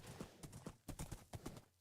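Horse hooves clip-clopping in Minecraft, a quick uneven series of soft close knocks as the horse trots along through a desert area, with no talk over it.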